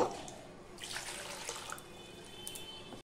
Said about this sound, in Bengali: এবার এই সাবুগুলোকে আমি ধুয়ে নেব, দুবার করে ধুয়ে দেব।